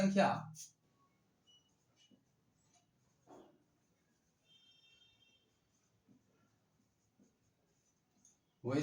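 Writing on a classroom board during a maths lesson: faint, sparse scratchy strokes spread across the middle of the clip, with a voice speaking briefly at the start and again at the end.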